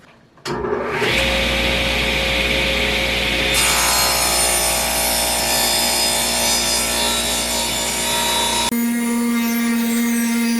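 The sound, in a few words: sawing glued wood into square table legs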